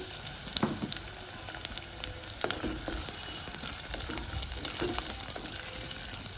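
Thinly sliced onions fry in oil with cinnamon and cloves for a prawn and sorrel-leaf curry, producing a continuous close sizzle and crackle with occasional scraping stirs and no voices.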